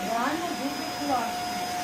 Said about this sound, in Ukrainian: Пелесос не шумний, сусідам мішати не будете.